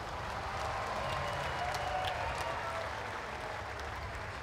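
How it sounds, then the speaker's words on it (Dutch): Crowd applause for the winner at the Ford Fiesta Sprint Cup race at Zandvoort, a soft, distant spread of clapping over a low background hum. "Jullie applaus voor Luc Hartog."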